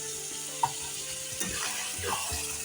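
Cabbage curry cooking in a pan as spices are added and stirred, giving a quiet, steady sizzle with soft scraping stir sounds and a few brief clinks.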